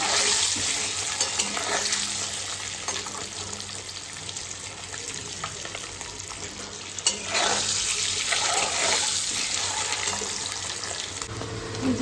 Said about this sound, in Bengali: ডিমটাকে ভেজে নিচ্ছি